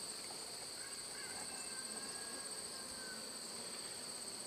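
Bees in a modified Warre hive being smoked off the sidebars, heard as a faint, steady, continuous buzzing drone with no other sounds.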